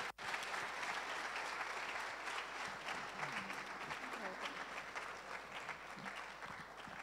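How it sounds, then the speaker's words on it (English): An audience claps together at a university research week event, a dense, sustained burst of applause from a large crowd that holds steady and slowly eases, with no clear voices on top. "A round of applause one more time"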